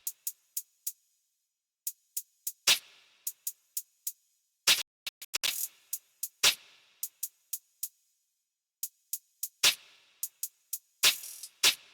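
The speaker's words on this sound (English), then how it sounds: "Next we add on a regular hi-hat pattern for 60 drill," Crisp programmed hi-hats for a drill beat, ticking in quick regular groups with rapid rolls and short pauses, bright and dry with no talking over them.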